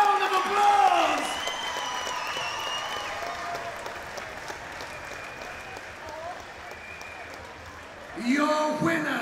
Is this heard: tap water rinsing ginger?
no